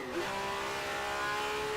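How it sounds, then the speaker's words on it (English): Open-wheel Formula A race car at an HRSC event at Riverside, its engine revving hard and steadily with a rising tone throughout, loud and fairly close, no talk over it. "you can hear the revs from Bert Knops"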